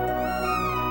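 A cat meows in the SNES game Chrono Trigger, one drawn-out synthesized meow with a bright harmonic tone that holds steady for about a second, loud and alone.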